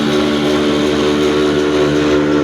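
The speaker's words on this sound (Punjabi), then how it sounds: "ਕਾਲਾ ਇੰਜਨ ਚੱਲ ਰਿਹਾ ਵਾ" An old black engine driving a flour mill runs close and loud, a steady, strongly pulsing mechanical drone with a deep rhythmic thump that never changes pace.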